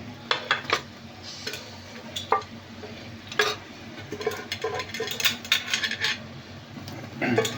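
Mutton goes into a pot with potatoes for Bombay mutton kulambu and gets stirred, giving repeated metal spoon clinks and scrapes against the vessel over a low sizzle, close and fairly loud.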